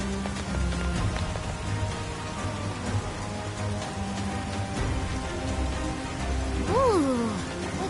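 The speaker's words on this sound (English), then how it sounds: "It just started pouring all of a sudden" Heavy pouring rain in the video game Persona 5 Strikers, a constant hiss of rain on surfaces beneath game music and sound effects, with a swooping tonal sweep near the end.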